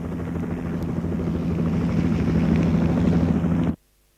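Westpac rescue helicopter rotor thudding steadily and loudly at close range, a dense low chop that builds slightly before cutting off abruptly near the end.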